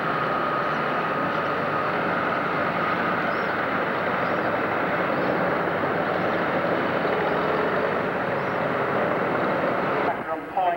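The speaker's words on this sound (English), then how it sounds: "Tractor working its way to this side." At a 1997 Sandwich, Illinois tractor pull, a pulling tractor roars in a loud, continuous, broadband engine blast across the whole stretch, with a voice speaking partly under the noise and the sound shifting briefly at the end.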